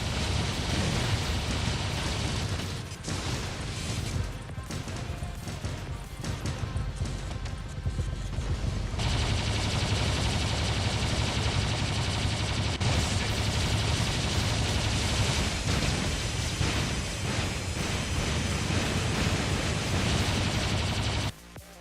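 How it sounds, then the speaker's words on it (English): Explosions and gunfire in the mech combat game War Robots: a dense, loud, unbroken barrage of shots and blasts, with sharp cracks and rumbling bursts piling on top of each other throughout. "Explosions going off here."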